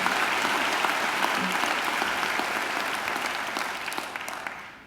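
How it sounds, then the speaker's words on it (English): An audience at a university graduation ceremony applauds in a loud, dense round of clapping that slowly tapers off toward the end. "I think Linda deserves another great round of applause"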